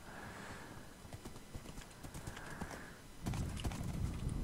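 Horse hooves clip-clopping in the Minecraft video game as the horse walks out of water, with steady close footsteps, a brief whinny and louder splashing toward the end.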